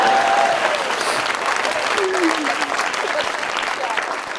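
A studio audience at a television comedy talk show claps loudly and densely, with a person's voice speaking over the ovation as it carries on and gradually eases slightly.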